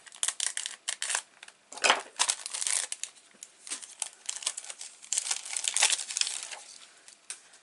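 Crisp plastic packaging holding adhesive-backed craft buttons is cut and torn open, producing a steady run of crinkling, crackling rustles and snips at close range, with no talking.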